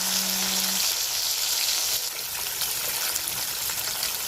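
Onions hit hot oil already tempered with mustard and fennel seeds, giving a loud, steady sizzle and crackle of frying that continues throughout without speech.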